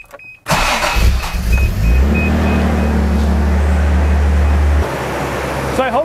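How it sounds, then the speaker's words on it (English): A Toyota Supra's engine idles steadily up close after starting, with a low continuous rumble that shifts slightly in pitch partway through, and a brief whirring near the end. "So I hope you can hear me over the engine."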